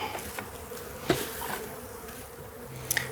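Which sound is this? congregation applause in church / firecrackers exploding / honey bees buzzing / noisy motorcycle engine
honey bees buzzing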